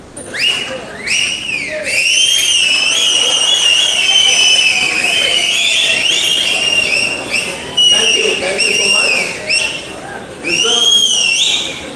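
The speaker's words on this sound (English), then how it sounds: "Which whistle is the best whistle?" Audience members in a lecture hall whistle loudly and continuously in shrill, overlapping tones, with a voice briefly speaking over them.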